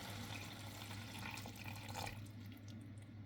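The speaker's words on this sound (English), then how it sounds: "And I got a cup of water here." A cup of water poured into a pan while making a low-carb burrito casserole, heard as a soft steady splashing trickle, faint and close, with no talk.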